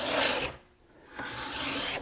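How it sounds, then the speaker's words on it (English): A cabinet card scraper draws across wood in two long, close rasping strokes, separated by a short quiet pause. "Now, as mentioned, when you're doing your scraping, you want shavings. You don't want dust."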